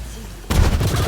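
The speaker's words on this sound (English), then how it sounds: "Magic missile." A magic missile spell fires in Pathfinder: Wrath of the Righteous, a sudden loud burst of rumbling, crackling impacts breaking in halfway through and pulsing on after a quiet start.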